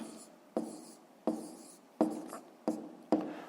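Pen strokes scratch on paper as numbers are written by hand for a fifth-grade maths exercise, five or six short, close scribbles in a steady rhythm against a quiet room.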